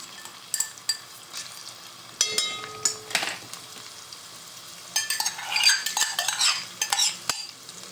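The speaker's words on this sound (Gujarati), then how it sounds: "ચાલો હવે આદુ લસણ નાખી દેવાનું" Ginger and garlic going into a pan of chicken curry masala, with a gentle sizzle under bursts of a spoon scraping and clinking against the pot, close and moderately quiet, without any talk.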